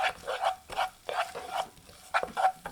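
Two garlic cloves and four shallots sauté in a pan, a spatula scraping in quick, regular strokes with a light sizzle between them.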